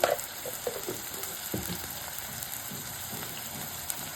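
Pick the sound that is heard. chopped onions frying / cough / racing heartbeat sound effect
chopped onions frying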